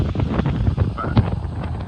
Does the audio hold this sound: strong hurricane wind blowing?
yes